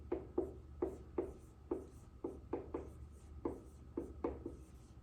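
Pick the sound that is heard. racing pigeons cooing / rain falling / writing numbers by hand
writing numbers by hand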